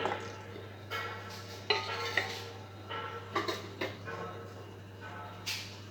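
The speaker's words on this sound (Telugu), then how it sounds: "ఒక ప్యాన్లో కట్ చేసుకున్న కాకరకాయ ముక్కలు వేసుకోవాలి." Cut bitter gourd pieces for a spicy kakarakaya fry go into a pan, giving a few scattered clinks and knocks of pan and utensil over a low steady hum, with no talking.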